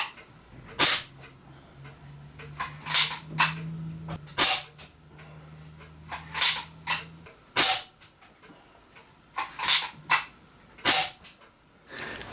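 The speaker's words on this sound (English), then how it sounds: "So I'll get a target set up, and we'll shoot a few BBs." A Daisy Number 155 BB gun fires at a target, about a dozen sharp, close cracks spaced irregularly over several seconds, with a low steady hum underneath for part of the time and no talking.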